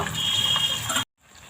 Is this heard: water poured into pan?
yes